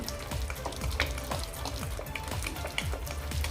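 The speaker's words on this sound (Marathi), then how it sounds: "आता हे तूप पहिल्यांदा मी फेटून घेते व्यवस्थित असं तळ हाताने असं हे चांगलं फेटून घ्यायचं आहे" Thick ghee for homemade nankatai cookies being beaten by hand with the palm in a bowl, a steady rhythm of soft, wet slapping strokes repeating about every half second, close and continuous, with no voices.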